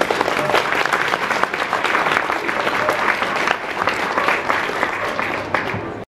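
A crowd at a vegan fair gives guests a warm round of applause, loud and continuous for several seconds before cutting off abruptly at the end.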